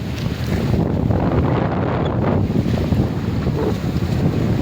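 A patrol boat at sea pushes through strong wind, with steady broadband wind and water roar battering the microphone for the whole stretch, loud and unbroken, with no voices.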